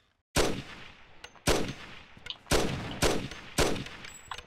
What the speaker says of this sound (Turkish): Yani hızlı gideyim derken bak karşıdan sıkıyor.